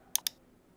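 A single mouse button click, two quick sharp ticks close together, near and dry, with nothing else around them.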